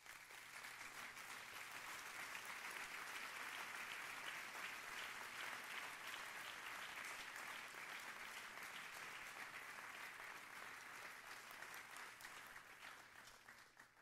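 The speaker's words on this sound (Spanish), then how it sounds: "Dele un fuerte aplauso a Cristo Jesús" Steady applause from a church audience fills the room, a dense, even wash of clapping that holds for the whole stretch and only begins to thin slightly near the end, with no voices over it.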